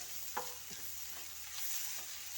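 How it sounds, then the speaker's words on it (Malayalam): Onions with turmeric, chili and coriander powder sauté over a high flame for a chicken roast, giving a faint, steady sizzle broken by a few soft spatula scrapes and taps. "ഞാൻ ഇതിനകത്ത് മഞ്ഞപ്പൊടിയും മുളക് പൊടിയും മല്ലിപ്പൊടിയും ചേർത്ത് വഴറ്റിക്കൊണ്ടിരിക്കുകയാണ്"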